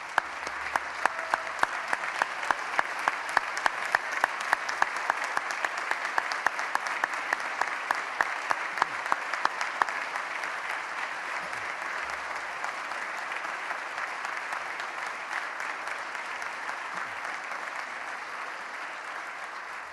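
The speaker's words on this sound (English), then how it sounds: "Let's give them each a round of applause." Sustained audience applause in a legislative chamber during the Wisconsin governor's 2015 State of the State address, a steady dense roar of many hands lasting throughout, moderately distant and without talk.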